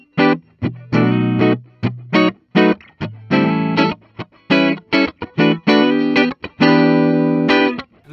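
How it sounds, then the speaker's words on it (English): A Gibson Custom Shop Dave Mustaine electric guitar plays a clean tone on its neck pickup, with bright picked chords and single notes in a choppy rhythm, loud and alone. "Say this actually has some really nice clean tones to it. I'm digging that neck pickup."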